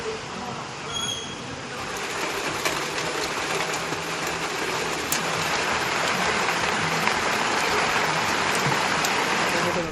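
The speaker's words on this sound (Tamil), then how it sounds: "தமிழ்நாட்டின் பல்வேறு பகுதிகளில் மழை பெய்தது." Heavy rain falls over harvested paddy fields in Tamil Nadu, a steady, dense wash of hiss and patter that holds constant throughout with a few sharper drop impacts, no voices heard.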